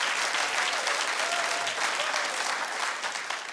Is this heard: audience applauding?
yes